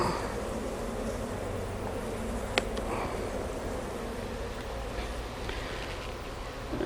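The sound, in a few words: angry honeybee buzzing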